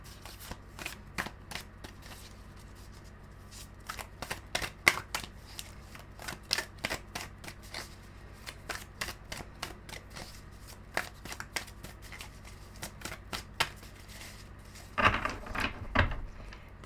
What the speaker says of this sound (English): This is very heavy cardstock. Hard to shuffle, hard to shuffle.